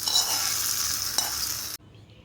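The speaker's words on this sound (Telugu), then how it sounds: "చట్నీలో పోపు వేసుకుందామండి." Hot tempering tipped into peanut chutney gives a loud, close hiss and sizzle with a brief burst partway through, then cuts off abruptly, leaving only a faint quiet tail.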